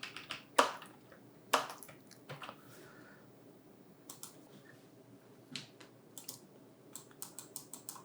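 Typing on a computer keyboard to enter Tamil text in LaTeX, with scattered, irregular keystrokes, a few sharper louder taps and short runs of quick clicks, close and without speech.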